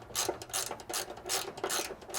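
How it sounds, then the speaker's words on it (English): A ratchet fitted with a 12mm socket works a bolt loose on the inside of a Toyota 4Runner's driver's side frame rail, giving repeated close, rasping bursts of rapid clicks in an uneven back-and-forth rhythm. "we're going to go ahead and remove this bolt on the inside of your driver's side frame rail, utilizing a 12mm socket"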